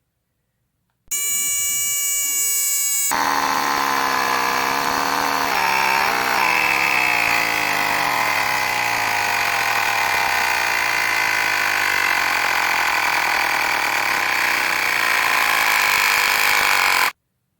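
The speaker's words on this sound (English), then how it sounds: "Let's see how long it takes to get up to 100 PSI." Portable cordless digital air compressor tire inflator with a 4000mAh LiFePO4 battery, starting with a beep and then running as a loud, steady, buzzing motor drone that continues without a break.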